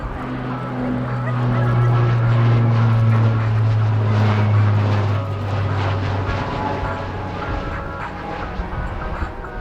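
The turboprop engines of a C-27J Spartan aircraft in flight at an air show drone loudly in a steady, throbbing hum, swelling in the first half and then easing as the noise fades toward the end.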